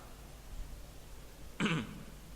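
A single brief throat clearing, a short "ahem", stands out against a quiet background hiss.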